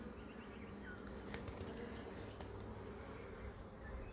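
Honey bees hum inside an open hive in a steady, low, close drone, with a few faint higher buzzes of individual bees passing near.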